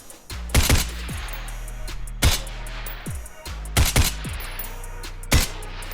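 Gunfire in the Geronimo VR combat game on a training shooting range: four loud, close bursts of shots with echoing tails, spaced a second or two apart, with no talk.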